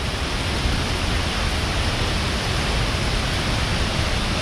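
A constant, dense roar of Lick Creek Falls in Daniel Boone National Forest, loud and unbroken from start to finish with no voices.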